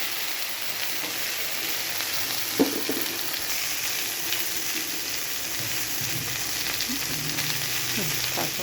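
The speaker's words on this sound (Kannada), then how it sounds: "ಇದು ಅಷ್ಟು ಸ್ವಲ್ಪ ಒಂದು 5 ನಿಮಿಷ ಫ್ರೈ ಆಗಬೇಕು." Upma fries in a pan with turmeric just added, giving a soft, steady sizzle at low volume, with one faint clink of a utensil partway through.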